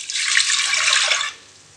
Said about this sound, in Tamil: அதே டம்ளரில் 5 டம்ளர் தண்ணி ஊற்றிக்கலாங்க.